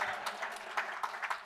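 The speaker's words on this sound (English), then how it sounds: "You can all clap" Sparse applause from a small conference audience at a policy gathering, a few scattered claps rising and falling in short uneven bursts over a quiet room, fairly faint and brief.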